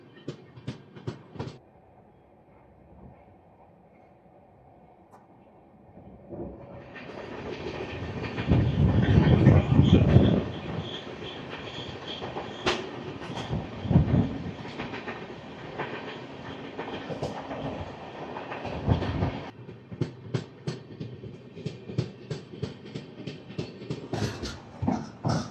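The Gowthami Superfast Express, number 12738 on the Lingampalli to Kakinada Port run, rolls along the rails: quiet at first, then a loud rumbling passage with rhythmic clickety-clack, easing into sharp wheel clicks at the end.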